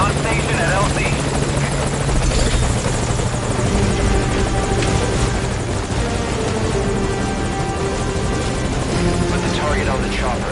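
A helicopter in the video game Metal Gear Solid V: Ground Zeroes thrums loud and close with steady rotor chop and engine drone throughout, with radio voices talking over it.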